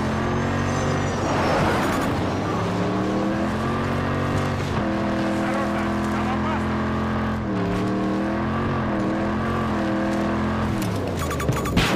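Vehicle engine in Battlefield 2042, loud and close throughout, with revving that climbs and falls in pitch as it accelerates and shifts, plus tire squeal and game voice callouts over it.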